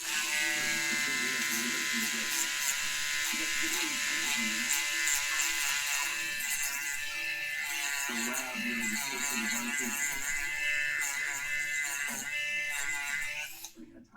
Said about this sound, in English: then we'll go back with our rotor tool on the inside